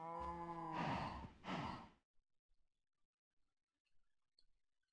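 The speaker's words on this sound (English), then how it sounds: "Hi, cows." Cows in the Minecraft video game give a loud, close, drawn-out moo followed by a shorter second low call, then near silence with faint small game clicks.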